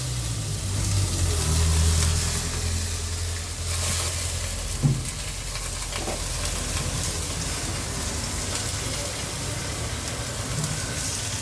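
Onions and chicken sizzle and fry in a pan with a steady, close crackle, stirred now and then with a few utensil knocks.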